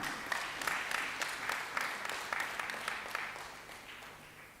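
Faint rhythmic group clapping at a Tanzanian judiciary New Year gathering, a dozen or so sharp, evenly spaced claps heard from a distance.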